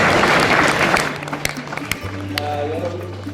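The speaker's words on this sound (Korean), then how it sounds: "큰 박수 부탁드리겠습니다." Applause from a seminar audience at a Lions club officers' training, a brief burst of clapping that thins into scattered claps, with a low steady hum and faint voices underneath.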